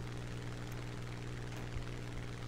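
A Hawker Typhoon fighter plane's piston engine drones in the War Thunder video game, a steady, loud propeller roar with a constant low hum and no talking.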